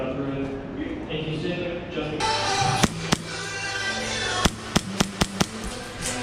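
Airsoft Hi-Capa 5.1 pistol shots at an airsoft field: a series of sharp, crisp cracks, first two spaced apart and then a quicker run of about five, over outdoor background noise.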